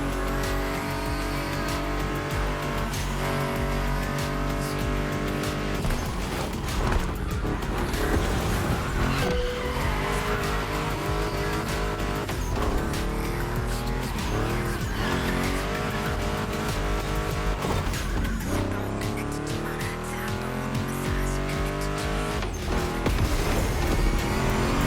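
A Ford Mustang GT muscle car driven hard in The Crew Motorfest, its engine roaring loud and close through repeated rises and drops in revs as gears shift, with occasional tire squeal throughout.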